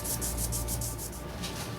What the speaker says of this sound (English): I'll come back with my leather-faced sanding block and some worn-out paper